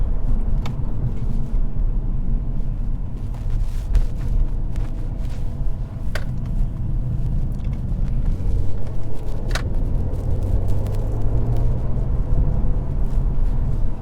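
Mercedes C43 AMG engine with a paddle-shift downshift, a steady low rumble heard from inside the cabin. The tone climbs and thickens toward the end, with a few faint clicks and knocks over the drone.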